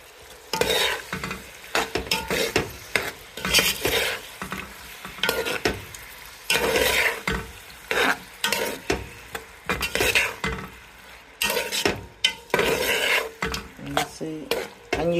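Prawns fry in a hot pan, sizzling steadily while a utensil stirs them in repeated scraping strokes against the metal, close and busy with no talking.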